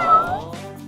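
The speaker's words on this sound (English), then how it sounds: "He brought home a pet kitten, which wasn't so great at first." A pet kitten gives a single clear, fairly close meow that rises and then trails off, heard alone without talk.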